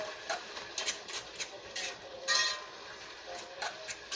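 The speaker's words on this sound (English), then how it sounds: "Add my onion in. Okay. Give it one more stir." Onions being stirred in a cooking pot, a series of light scraping and clinking utensil strokes in an uneven rhythm, fairly quiet and close, with a voice talking in between.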